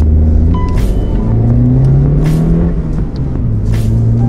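A Honda CR-Z Mugen RZ in S Plus mode gives off a loud, steady engine rumble that rises and falls as the revs climb and ease, close by and with no talking.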